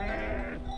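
Sheep bleat on a mountainside in the Pyrenees, one drawn-out, wavering call close by and loud, standing alone without talk.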